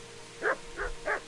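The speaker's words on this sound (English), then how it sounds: "Hi, doggy." A dog barks three times in the medieval role-playing game Kingdom Come: Deliverance, close and moderately loud, the barks evenly spaced over about a second.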